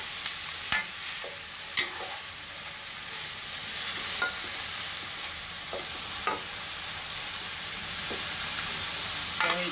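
Bitter gourd (ampalaya) sizzling in a frying pan, a faint steady fry hiss broken by sharp clicks and scrapes of a utensil stirring at irregular intervals.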